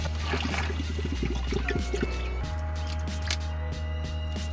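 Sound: water being poured in a camper kitchen

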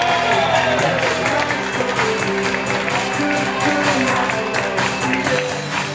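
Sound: applause for wedding couple's grand entrance

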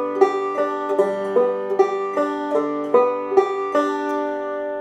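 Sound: banjo alternating roll picking pattern

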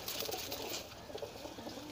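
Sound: flying pigeons cooing in loft

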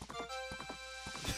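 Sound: horse Epona hooves and neigh in Majora's Mask video game

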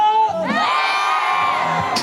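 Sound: baseball crowd shouting and cheering

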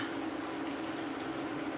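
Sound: rain falling

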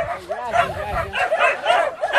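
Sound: many dogs barking

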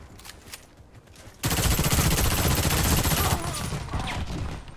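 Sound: shotgun fire in a video game

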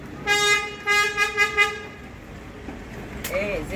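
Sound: car horn honking in street, Zeytinburnu

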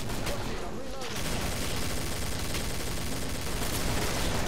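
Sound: gunfire in the video game Killing Floor

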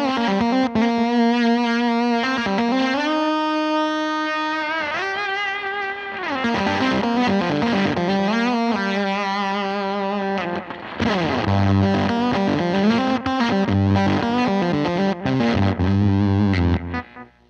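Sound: electric guitar through stacked gain pedals on pedalboard

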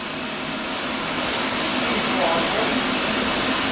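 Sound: fans running

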